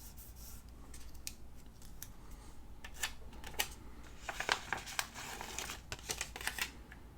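Scissors cutting paper for a planner page, a string of short crisp snips and paper rustles that grow denser toward the end, close and moderately quiet, with no talking.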